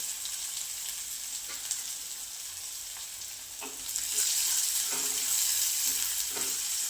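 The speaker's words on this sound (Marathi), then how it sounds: "कांदा आता छान असा लालसर परतून घ्यायचा" Two finely chopped onions sizzle steadily in a pan on low heat, a continuous broadband frying hiss that swells a little louder partway through, with faint scrapes of stirring now and then and no talking.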